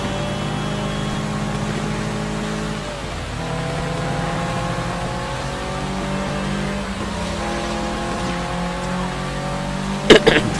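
Cars in a chase in the video game Sleeping Dogs, engines droning and revving with rising and falling pitch, closing with a short sharp impact.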